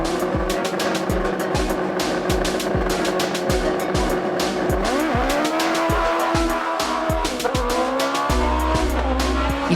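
A race car climbs the Morne Raquette hill climb at full throttle, its engine revving hard through repeated rapid gear shifts with tyre squeal, loud and close, with no talk.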